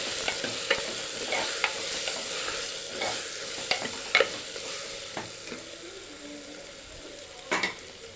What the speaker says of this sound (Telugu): ఇప్పుడు మనం ఇందులోకి ఒక హాఫ్ టేబుల్ స్పూన్ ధనియాల పొడి ఒక టేబుల్ స్పూన్ పసుపు వేసుకొని కలుపుకుందాం